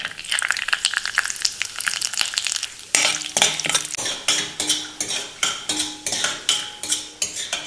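Small cashew and almond pieces roasting in ghee in a pan, a steady sizzle joined by repeated sharp scraping and stirring strokes of a metal spoon.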